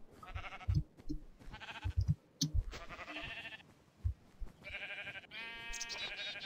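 Sheep in the video game Minecraft bleat several times in a row, each cry clear and nasal, spaced by short pauses and alone without talk.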